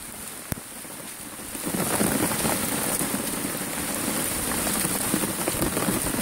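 Steady, close rain pattering on a makeshift umbrella, with a sharp tap near the start and the downpour growing louder after a couple of seconds, then holding as a dense continuous hiss with no talking.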